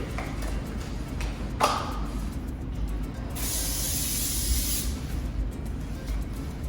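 A spray gun hisses in steady bursts, spraying fast-evaporating prep solvent, one long continuous spray in the middle, with faint pings and paint shop noise around it.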